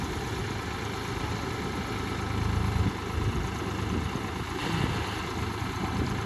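Steady low throb of a Swaraj 744 XT tractor engine, idling or running at slow revs, with a few brief surges in the middle; moderately close and continuous, no voices.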